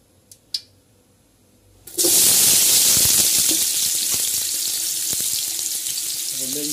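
Onions hitting hot Dalda fat for chicken biryani erupt into a loud, sudden sizzle after a couple of faint taps, then settle into a steady, close crackling fry.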